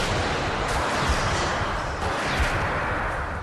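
A melon-sized block of ice dropped from about 600 metres smashes through a house roof, a loud, dense crashing burst that sounds much like gunfire and fills the whole short stretch.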